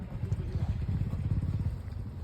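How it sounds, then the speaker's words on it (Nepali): A Royal Enfield Bullet motorcycle rumbles past on a mountain road in Upper Mustang, its low steady engine thump loud and continuous for the whole stretch, with no voices over it. "बुलेट र बाइक"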